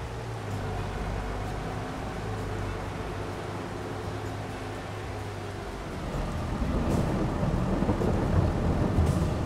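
A thunderstorm in the farming game Landwirtschafts-Simulator 22 rumbles with low rolling thunder and steady rain, a machine's hum fading out as the rain grows louder toward the end.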